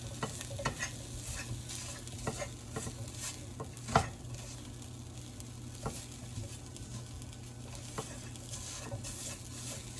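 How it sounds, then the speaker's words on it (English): A fork mashes roasted garlic into a paste in a pan over low heat, giving soft repeated scrapes and taps against the pan over a gentle, steady sizzle, close by with no talking. "I'm gonna take a fork and I'm just gonna mush all of the garlic"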